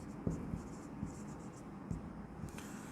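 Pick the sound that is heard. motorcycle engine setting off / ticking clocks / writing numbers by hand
writing numbers by hand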